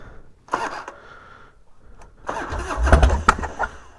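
A Harley-Davidson FXDX motorcycle engine cranks and starts when cold, first in a short burst and then catching into a rough, rising rumble, loud and close, with no voices.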